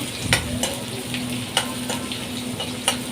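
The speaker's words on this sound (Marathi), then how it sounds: "कांदा टाकून कांदा लालसून होईपर्यंत तळून घ्यायचं" Onion frying in oil, a soft continuous sizzle with a low steady hum beneath and a few sharp ticks and pops from stirring at irregular intervals.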